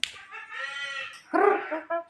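A jalak kebo myna bird imitates a chicken with a few close, clear clucking and crowing calls in short, separate bursts.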